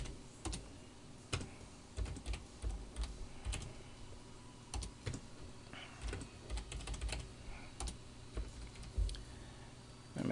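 Text being typed on a computer keyboard during an Inkscape design session: a steady run of quiet, close key clicks in irregular bursts for about ten seconds, with no voices.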